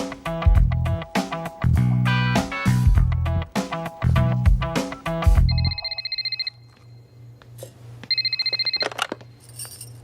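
Telephone ringing in a Hindi film scene, two bursts of electronic ringing heard close after loud music and effects fade, with a low hum underneath.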